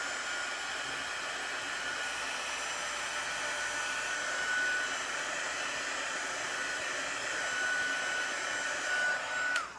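Hair dryer blowing steadily at close range to dry chalk paste ink on a craft flag, a continuous even whoosh lasting the whole stretch with no talk.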